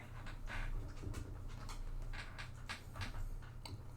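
A hairy pet dog panting steadily and close, with rapid rhythmic breaths repeating through the whole stretch over a low constant background hum.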